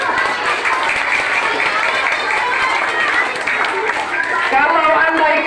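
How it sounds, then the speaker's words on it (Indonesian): Children at an Islamic madrasah in Palembang clap for a student during a religious talk on Isra' and Mi'raj, loud, busy clapping mixed with crowd chatter and voices throughout. "Tepuk tangan untuk Dirga"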